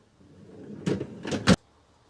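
A storage drawer beneath the fridge in a 2022/2023 Rimor EVO 77 Plus semi-integrated camper being opened: a soft sliding rumble, then a quick pair of scraping slides ending in a sharp clack, close by.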